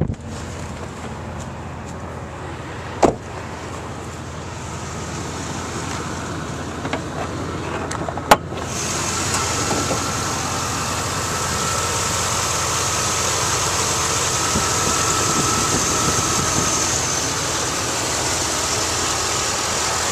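A 2004 Chevrolet 2500HD 4x4 truck's engine runs steadily at idle, a constant low hum that grows slightly fuller after a couple of faint clicks, with no talking.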